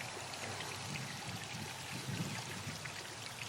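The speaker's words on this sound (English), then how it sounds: "what we got is water leaking directly out of the head" Water pours and trickles steadily out of the cylinder head of a 1979 Chevrolet K5 Blazer engine, a close, continuous splashing flow with no voices.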